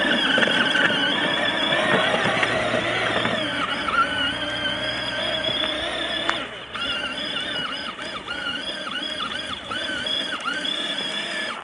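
A Peg Perego Polaris Sportsman 400 ride-on toy ATV, tuned to two speeds, runs in second gear with a steady high electric motor whine that shifts pitch midway and carries on loudly to the end.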